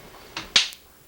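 Two sharp hand claps in a home kitchen during cooking, a quieter one followed by a louder, crisper clap, close and with no talking.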